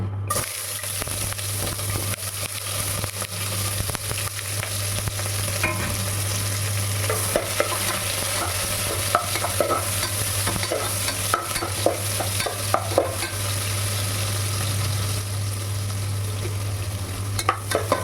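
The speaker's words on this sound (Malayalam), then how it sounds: "ആ മണം ആവുന്ന സമയത്ത് നമുക്കിതിലേക്ക് ഉള്ളി ആഡ് ചെയ്ത് കൊടുക്കണം." Onions sizzle and fry in hot oil with spices for a vegetable biryani, a steady close crackle with occasional stirring scrapes and clinks of the spoon in the pan, with no talk.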